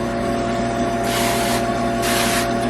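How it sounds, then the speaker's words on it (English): Two short hissing sprays from an aerosol can of avocado oil cooking spray onto a heating Dash waffle maker, each about half a second, over a steady low background hum. "Spray it with some avocado oil."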